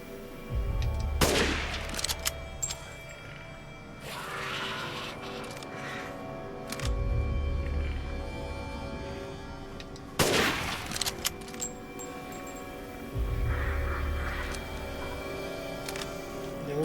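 Gunfire in the video game Resident Evil 8: a few sharp, loud single shots spaced seconds apart over a low rumbling in-game ambience, with no talking.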